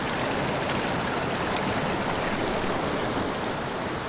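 A boulder-choked mountain creek rushes over rocks in a constant, close, broadband roar of flowing water, steady throughout with no voices.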